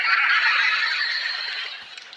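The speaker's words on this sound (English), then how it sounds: "Oh, my God, they're turkeys!" A flock of turkeys gobbles in a dense, bright chorus, loud and continuous for about two seconds with no voices over it.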